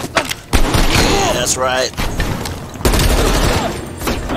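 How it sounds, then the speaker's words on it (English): Sniper rifle shots in Call of Duty Black Ops Cold War, a few sharp loud cracks heard alongside game sounds and someone talking. "I'm using sniper."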